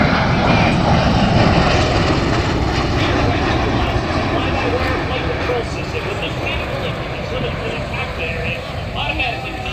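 A helicopter-airplane tiltrotor aircraft at an air show produces a loud, continuous engine drone that fills the whole clip at steady volume, with an announcer's voice over it.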